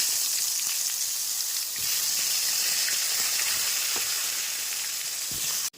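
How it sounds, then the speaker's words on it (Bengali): Potatoes fry in hot oil seasoned with turmeric and salt, a dense, steady hissing sizzle heard close by with faint occasional ticks, running unbroken until a sudden cut at the end. "আলুগুলোকে ভাজতে দিয়ে দেবো সুন্দর করে"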